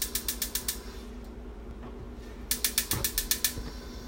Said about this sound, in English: if you hear something in the background, it's definitely the stove